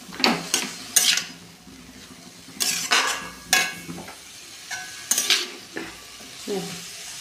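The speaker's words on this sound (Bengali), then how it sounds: "আর সামান্য একটু জিরে গুঁড়ো দিচ্ছি, একটু নেড়ে টেড়ে ঢাকা দিয়ে দেবো" Cabbage with turmeric and cumin powder is stirred in a frying pan: irregular bursts of spatula scraping against the pan over a soft sizzle, close and without talk.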